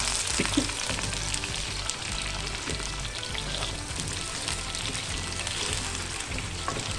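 Frozen kebabs frying gently in a pan of oil for a kebab biryani, a dense, even sizzle and crackle held close and steady throughout, no voices.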